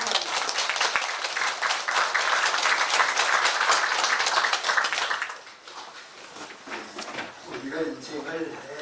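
Large indoor audience applauds at a lecture honoring Professor Kim Hyung-seok, a dense roar of clapping for about five seconds that thins to scattered claps with faint voices underneath.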